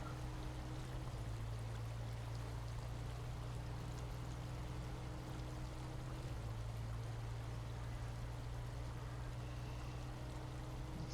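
Water flows steadily around a truck in the off-road driving game SnowRunner, a continuous rushing stream mixed with a low engine hum at an even level throughout, with no voices.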